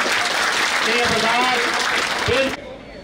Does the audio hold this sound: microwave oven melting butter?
no